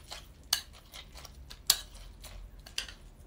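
Spoon clinking against a bowl while mixing cereal with chocolatey milk: three sharp, close metallic taps spaced about a second apart over soft stirring, with no talking.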